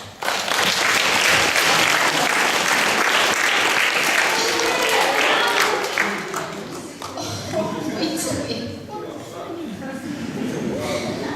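A group of people claps loudly for a child who ate mustard at a school graduation celebration, dense applause that thins out midway and then picks up again, with voices talking over it.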